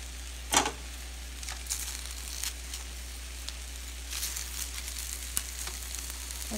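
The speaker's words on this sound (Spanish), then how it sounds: "Ya voy a sacar mis ajos, porque estos ya se me están cociendo." Garlic, onion and tomatoes fry in a pan for salsa, giving a soft, continuous sizzle with occasional crackles and a few stirring clatters, close and fairly quiet.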